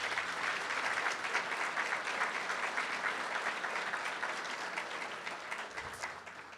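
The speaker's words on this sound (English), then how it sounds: "Round of applause." A community center grand opening crowd applauds steadily and at moderate distance, the dense clapping holding evenly before easing toward the end.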